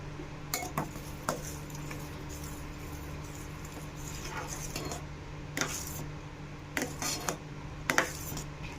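A spoon stirs carrot sabudana payasam, seasoned with cardamom powder and a little salt, in a pot. It makes scattered metallic clinks against the pot's side over a low, steady background hum.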